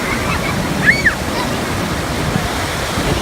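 Ocean waves at the beach of Delaware Seashore State Park make a steady, close, full wash of surf throughout, with one brief high chirp partway through.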